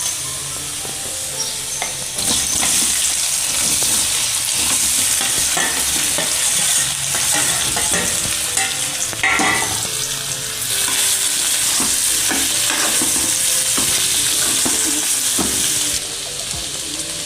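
Potatoes fry with turmeric and curry leaves in a pan for Kathiyawadi dry potato sabzi, a steady loud sizzle running throughout, with repeated clicks and scrapes of stirring close by and no talking.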